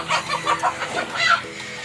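Several large roosters cluck and call inside a shed, their repeated short clucks and squawks close and fairly loud, overlapping in uneven bursts with no talk.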